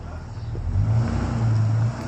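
A 1996 Nissan Skyline R33 petrol engine, recently misfuelled with diesel, runs loud and close, its low rumble rising briefly as it is revved, then settling.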